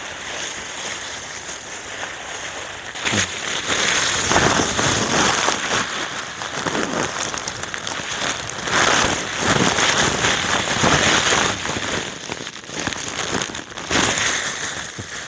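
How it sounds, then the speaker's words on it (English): Strong wind roars and gusts in a blizzard, buffeting steadily with surging bursts, loud and close throughout with no talk. "fighting the wind is not helping"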